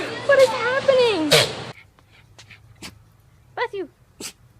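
A dog sneezing, with short sharp bursts that come after a dog's whimpering yelps, set between excited human voices and exclamations at close range.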